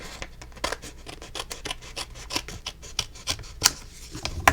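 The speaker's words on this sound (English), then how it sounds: "get my tiny scissor in that little crack and then cut them across" Small scissors snipping through handmade card, a quick irregular run of crisp close cuts and rasps with brief pauses between them, loud against a quiet background.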